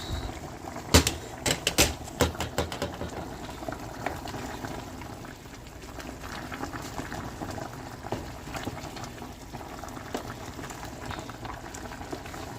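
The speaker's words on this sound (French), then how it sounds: "Regardez comment ça bout." Okra sauce (gombo) bubbles and boils in a pot with oil on top, a steady close simmer of bubbling and popping with a few sharper clinks near the start.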